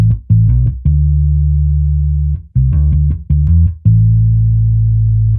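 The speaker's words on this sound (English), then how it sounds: "The bass line is just following the root notes of the progression." A deep electronic Afrobeats bass line follows the chord root notes, playing long sustained low notes broken by quick short notes, in a loose, swinging groove. No talking.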